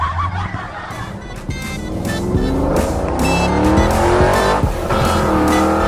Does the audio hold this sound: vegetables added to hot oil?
no